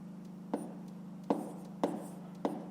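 Pen writing numbers by hand while working a fifth-grade maths exercise: four faint, evenly spaced taps and strokes against a steady low hum, with no voices.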